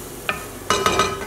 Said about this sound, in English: Next I'm going to be adding in the tomato juice and balsamic glaze and stir about 3 to 6 minutes as it thickens.